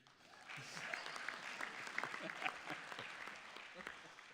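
A crowd at a state bar annual meeting claps continuously at a steady level, a sustained round of applause with faint voices mixed in.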